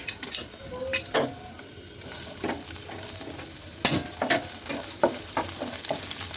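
Chopped onion fries in mustard oil and is stirred in a pan: a steady sizzle close by, broken by frequent scrapes and clinks of a spatula at an uneven pace.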